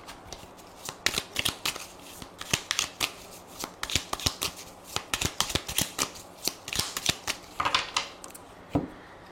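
Tarot cards are shuffled and cut by hand, a close, quiet run of crisp riffling and soft slaps in irregular bursts.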